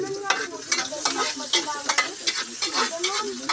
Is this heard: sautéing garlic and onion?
yes